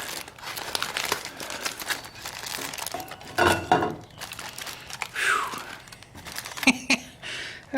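Crinkling aluminium foil of a camp-cooked bratwurst supper packet is pulled open, with irregular crackles and crunches close up, some sharper rustling bursts and faint background noise.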